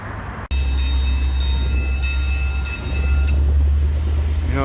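A Via Rail train made up of a single Budd car passes in Montreal in March, a loud, steady rolling rumble with a sustained tonal hum that lasts throughout, nearby.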